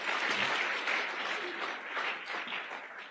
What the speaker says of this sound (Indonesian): Tepuk tangan untuk Tiansi dan One Vision.